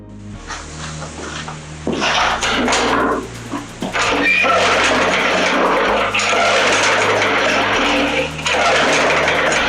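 An MTD lawn mower with a Briggs & Stratton engine, in need of repair, runs with a loud rough roar that surges and dips unevenly. It cuts out briefly near the middle before revving back up, close by.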